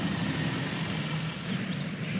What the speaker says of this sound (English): So this is really busy as far as idling is concerned